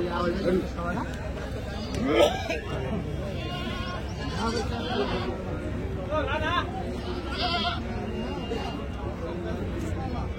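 Goats bleat repeatedly at a busy weekly livestock market in Kadiri, sharp calls rising over a dense babble of people talking and bargaining nearby.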